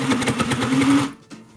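A Sew Cool no-thread toy sewing machine stitches through a handbag with a steady, close mechanical whir and rapid needle thumps, then stops abruptly and leaves a brief quiet tail.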